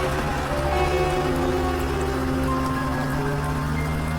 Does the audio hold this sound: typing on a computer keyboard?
no